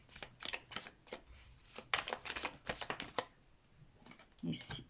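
Tarot cards being drawn and handled on a surface, with a quick series of crisp slaps, flicks and shuffling riffles in irregular bursts and short pauses, fairly close and moderately quiet.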